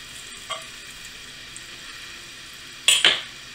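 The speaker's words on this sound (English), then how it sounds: "we're going to put some butter in the pan" Butter hits a cast iron pan over low heat and sets off a soft steady sizzle, marked by one light tap early on and then a louder clattering burst near the end.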